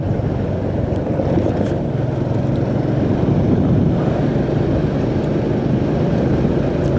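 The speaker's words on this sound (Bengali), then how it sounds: "আস্তে আস্তে বাইকটা চালা আসছি" A motorcycle is ridden slowly along a road in rural Sunamganj, Bangladesh, giving a steady, low engine drone mixed with wind rush that holds constant and fairly loud throughout.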